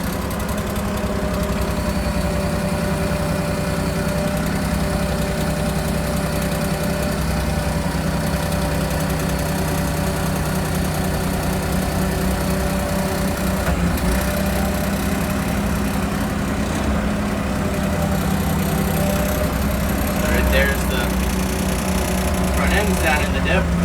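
A John Deere 2210 compact tractor engine runs steadily while stuck in mud, a loud, close, continuous mechanical drone with vibration that barely changes throughout, a voice speaking briefly over it.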